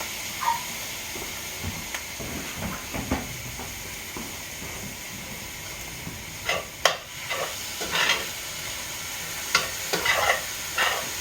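Green chilies stirred into coney sauce meat sizzling on low heat, soft steady frying hiss with intermittent scraping stir strokes, close and quiet, no talking.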